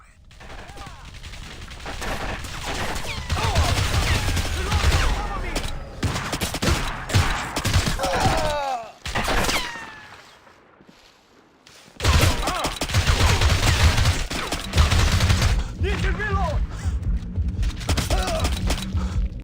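Dense bursts of automatic gunfire and explosions fill a first-person shooter game on Nintendo Switch. The loud volleys run in long stretches, broken by a short lull, with thuds and shattering mixed in.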